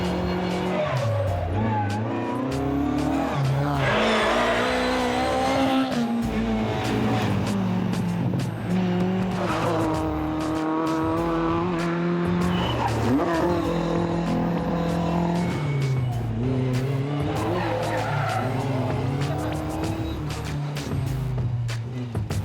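Small-displacement Lotus Elan race cars driven hard at the Tour Auto 2007 historic event, with loud continuous engine roar, revving gear changes and repeated tire squeal throughout.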